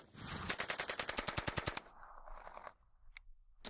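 A genuine, original WW2 MP40 submachine gun fires one rapid, loud burst of about a dozen rounds at close range, followed by echoing decay and a couple of isolated later clicks or shots.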